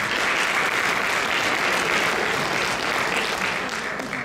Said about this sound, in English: So would you please give them a nice round of applause?